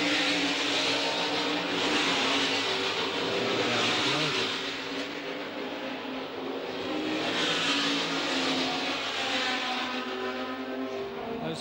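Race cars lapping an oval track in a 1972 Adelaide event, a loud sustained engine roar that swells and fades as the pack passes down the straight.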